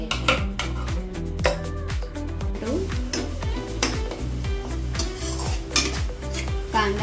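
A spoon stirs and scrapes against a metal pan while spices are tempered in butter and oil for pav bhaji. The clinks and scrapes come rhythmically and up close over a soft sizzle, and music plays underneath.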